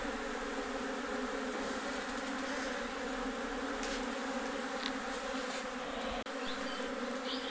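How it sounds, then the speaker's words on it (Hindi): A large swarm of honey bees hums steadily and densely as it clusters and crawls into a hive box, a continuous close buzzing with no speech, broken only by one brief click near the end. "ये आप देख रहे हैं इस तरह लटकी हुई है मधुमक्खियाँ। इसको अंदर कर लेते हैं, अंदर घुस रही है।"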